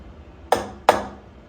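A hammer taps a machinist level into place on a Tormach 440 CNC mill, two sharp metallic knocks a fraction of a second apart, close and clear with no talk.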